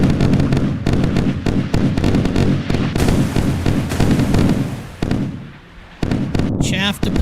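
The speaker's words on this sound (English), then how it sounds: "Chaff deployed." Chaff deployed in the naval video game Sea Power, heard as a dense rapid string of loud pops and bursts over a rumbling low battle din, ending with a short rising electronic chirp.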